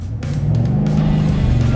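A 2023 Ford F-250 Super Duty pickup under hard acceleration gives a deep, steady engine roar that swells slightly and holds loud and close, with no voices over it.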